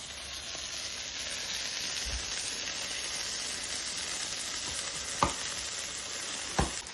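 A cheese quesadilla sizzles steadily in a pan just after being flipped, with a constant frying hiss and a few faint clicks and scrapes.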